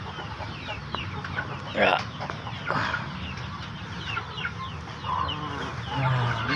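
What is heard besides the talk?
hen clucking in coop, about to lay eggs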